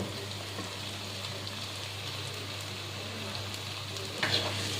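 Dried fish and arum lobes being stirred in a hot pan, a continuous soft sizzle and frying hiss with faint scraping of the spoon, fairly quiet and close, ending in a brief louder clink.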